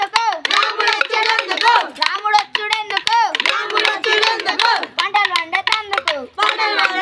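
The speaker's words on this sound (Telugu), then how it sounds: "చప్పట్లు కొట్టు మమ్మీ." Children clap hands in a steady rhythm while singing a Holi folk song in a village, the sharp claps close and loud, keeping time under the high sung voices throughout.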